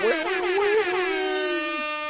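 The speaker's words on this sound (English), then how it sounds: "You have a boat air horn in your office that you hit like 4 times?" A loud, sustained boat air horn blast with rich harmonics, holding steady for about two seconds before tapering slightly, heard alone and close, indoors in an office.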